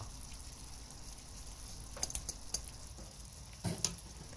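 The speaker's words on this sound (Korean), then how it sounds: "바글바글 끓어오르면 수박 껍질도 넣어줍니다" Sugar syrup with lemon juice and water boiling with watermelon rind in a pot, a steady soft bubbling sizzle with a few brief clinks of a utensil, no voices.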